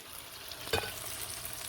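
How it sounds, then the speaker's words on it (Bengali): Pointed gourd (potol) cooks in a pan, giving a steady, close sizzle and fry hiss with one brief clatter or stir near the middle, and no voices. "অ্যাড করে দিচ্ছি পটল। ব্যাস 2 মিনিটের মধ্যে পটল আমার রান্না হয়ে যাবে।"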